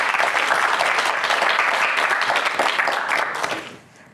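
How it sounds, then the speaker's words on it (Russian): An audience applauds craftswomen at an evening event in Gomel's Oktyabrsky district, with dense, steady clapping close by that fades out near the end. "Это вот аплодисменты для мастериц."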